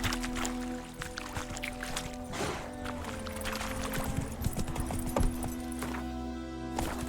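Horse hooves clip-clopping in The Witcher 3: Wild Hunt, a steady rhythmic clatter of hoof steps at close range over soft ambient background sound.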